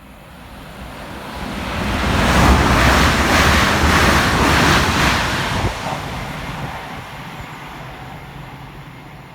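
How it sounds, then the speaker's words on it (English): An LNER Class 800 train passes fast through Chester-le-Street station, a broad rushing roar that swells over a couple of seconds, holds loudly, then fades, with no voices. "Next up, passing fast for LNER is 800-210, working 1K43 from Newcastle through to York."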